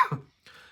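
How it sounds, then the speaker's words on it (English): A single sharp, close cough followed by a brief breathy exhale, loud at first and then fading into quiet. "Apologies about the cough"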